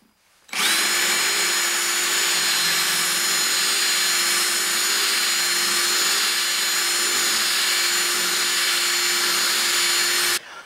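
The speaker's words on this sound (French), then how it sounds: "je vais perforer les trous que j'avais commencé" A power drill bores holes into a wooden bowl mounted on a woodturning lathe, a loud, steady whine running unbroken for about ten seconds before cutting off abruptly.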